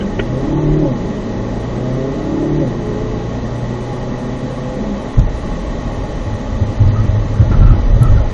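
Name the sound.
car braking and swerving left in an avoidance maneuver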